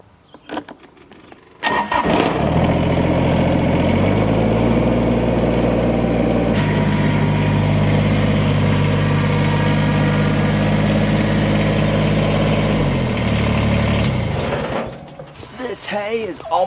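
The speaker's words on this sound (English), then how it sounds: "let's get the tractor going" A heavy tractor engine cranks and starts, then idles steadily and loudly with a low rumble for about twelve seconds before cutting off, on a farm.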